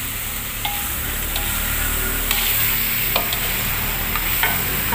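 Beef tendon and broth for Padang gulai tunjang stirred in a hot wok, with a steady loud sizzle and scattered scraping clicks of the spatula against the pan, no voices.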